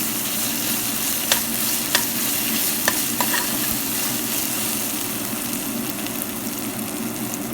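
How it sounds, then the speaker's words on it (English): Golden-brown onions fry with ginger garlic paste in a pan for chana pulav, giving a steady, loud sizzle throughout with a few sharp spoon clicks from stirring. "Now we're going to add our ginger garlic paste and cook until the raw smell goes."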